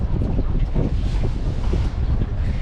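A new Fischer 1850 boat with a Yamaha 115 outboard runs at full throttle across the water, a loud steady roar of engine, hull splash and heavy wind buffeting the microphone.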